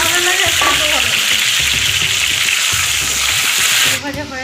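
Long-cut potato strips sizzle loudly and steadily in a hot pan, a dense continuous frying hiss with a faint voice murmuring beneath, easing slightly near the end.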